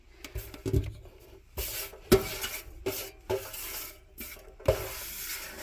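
Water from melting snow drips one drop at a time in an irregular rhythm, each making a small hollow plink into a container, with a faint rustle between drops.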